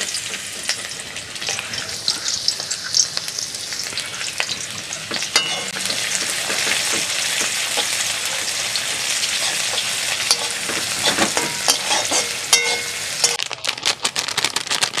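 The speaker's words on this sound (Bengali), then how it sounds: "তেলটা দিয়ে দিয়েছি, এখন পেঁয়াজ ভাজা ভাজা হচ্ছে" Onions fry in hot oil for a fish curry, giving a loud, steady sizzle with crackles and occasional stirring clicks and no talk, before a quick drop near the end.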